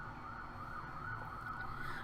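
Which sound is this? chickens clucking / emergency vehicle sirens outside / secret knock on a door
emergency vehicle sirens outside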